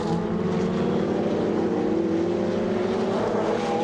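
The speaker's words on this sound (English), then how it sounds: "So as they cross our commentary position, and top speed for Tommaso Roca through the speed trap" Ferrari Challenge race cars at Le Castellet roar past at high speed, a loud continuous engine drone with a steadily shifting pitch and no talk over it.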